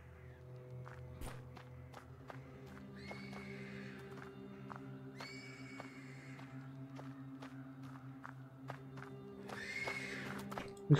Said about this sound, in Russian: Из конюшни доносится обеспокоенное ржание станционной лошади.